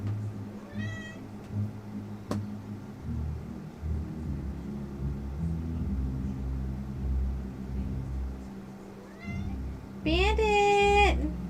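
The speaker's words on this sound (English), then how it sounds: "It is very important to get yelled at by your cat." A house cat meows insistently at close range, a few short calls early and then a loud, drawn-out yowl near the end, over a low rumbling room background.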